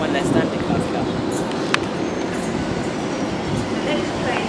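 An eight-coach train rumbles through Chelmsford station, a steady close roar of wheels and motors with a brief sharp click partway through and faint station ambience.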